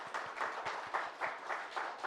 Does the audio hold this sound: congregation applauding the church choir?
yes